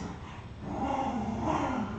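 A dog growls nearby in a low, steady rumble lasting about two seconds, rising slightly toward the end, alone with no talking.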